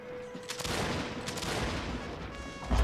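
Massed musket infantry in a video game fire at will: a continuous crackling fusillade of overlapping shots rolls on for the whole stretch, dense and moderately distant, with a louder burst near the end.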